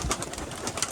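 Pigeons burst out of a freshly opened loft after days shut in, with soft cooing and faint wingbeat flutters over a steady, dense background wash.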